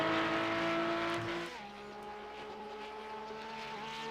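Porsche Cup race cars in the iRacing sim at Mount Panorama, engines droning loud and steady with a sustained whine that drops in pitch partway through as the car shifts or passes, no talk over it.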